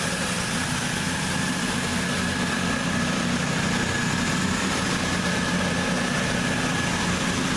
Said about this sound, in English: Next up to leave, 221127, departing with the 1816 cross-country service from Piccadilly to Bournemouth